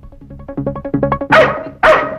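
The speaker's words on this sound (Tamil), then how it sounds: "முதல்ல நாயை கூட்டிட்டு போ" A dog lets out a quick run of short yips and whines, then two loud, full barks close by, with no talking in between.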